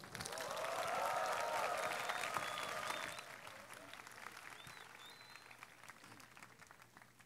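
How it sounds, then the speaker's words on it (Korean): Audience applause at a 2006 CCC summer retreat welcoming a guest speaker, loud and sustained for about three seconds before tapering into quieter scattered clapping and room noise. "여러분 박수로 환영해 주시기 바랍니다"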